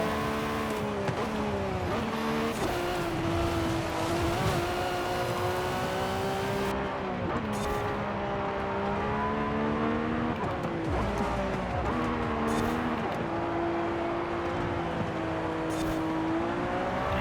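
Lamborghini Aventador race cars roaring through a racing video game, steady loud engine whine rising and falling through gear changes, with brief shifts and tire noise across the whole stretch.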